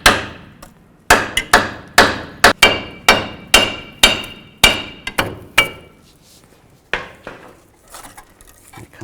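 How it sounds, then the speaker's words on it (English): A hammer tapping on the brake rotor of a Chevy Trailblazer, about a dozen sharp ringing strikes in a steady rhythm, then a few scattered lighter taps and clinks. "And just take a hammer, give it a couple taps."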